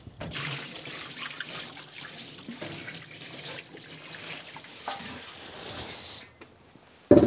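Degreaser liquid poured into a parts cleaner while working on a Rover 75 EGR and PCV system, a steady close trickling splash running for several seconds, ending with a brief knock.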